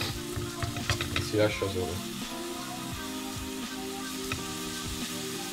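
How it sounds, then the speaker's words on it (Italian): A hamburger patty sizzles and crackles steadily in a hot pan, a close, continuous frying hiss with brief clatter early on as someone speaks in Italian. "si mette l'hamburger"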